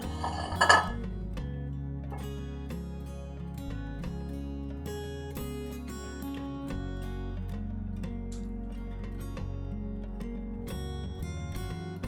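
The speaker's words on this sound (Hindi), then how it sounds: "अब इसे निकालते हैं हम शीर ख़ोरमा को एक डिश में" Sheer khurma, a creamy vermicelli dessert, being served out into a dish, with close clinks and taps of a spoon against dishes and cookware, one sharper knock early, then lighter scattered clinks.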